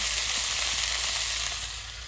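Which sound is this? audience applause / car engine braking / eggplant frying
eggplant frying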